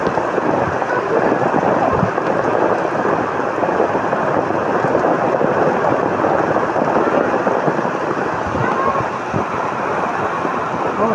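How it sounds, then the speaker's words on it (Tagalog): Heavy rain pours steadily throughout, with deep rumbles of thunder rolling underneath the constant hiss of the downpour. "Lakas ang ulan. Lakas ang kulog."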